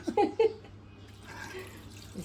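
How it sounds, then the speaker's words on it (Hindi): Water is poured into a pot of chicken curry on the stove: two short splashy bursts near the start, then a soft trickling wash that fades into quiet kitchen background. "तो थोड़ा डालना पानी कि जल नहीं जाए"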